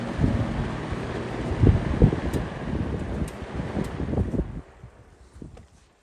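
An electric box fan is switched off and spins down. Its breathy whoosh of moving air rumbles unevenly, then drops away sharply after about four and a half seconds, leaving a faint fading hiss.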